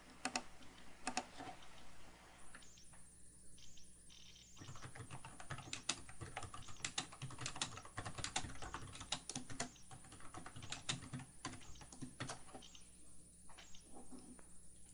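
Computer keyboard typing, quiet and close, with irregular bursts of rapid key clicks and brief pauses between them, no talking.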